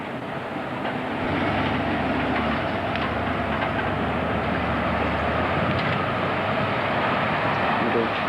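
A train passing through a station, heard as a steady, broad rumble and rolling clatter that swells after the first second and holds close and even to the end.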